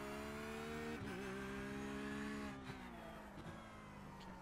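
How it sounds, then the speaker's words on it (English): A Porsche 911 GT3 R race car in iRacing on the Chicago Street circuit holds a sustained, buzzy engine note that drops briefly at a few gear shifts, fairly quiet and with no talk. "I hope you can hear the car. It sounds okay."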